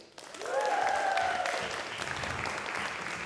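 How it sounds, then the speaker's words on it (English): Steady applause from an audience fills the room, swelling quickly and holding at a constant level, with a brief tonal sound near the start. "So let's give a round of applause for Surya's message."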